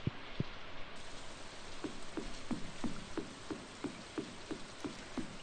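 Rain in the Stardew Valley video game: a steady soft hiss of falling rain with a regular series of light patters or taps, fairly faint throughout.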